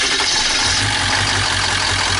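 A 2001 Ford E350 van's 7.3 PowerStroke diesel idles loud and close, a steady low throbbing rumble with broad clatter and hiss above, holding unchanged throughout without voices.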